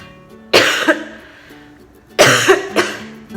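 A person with a chronic cough, in a hospital isolation facility, coughs in two close, loud bursts, each a harsh hack followed by a second weaker cough.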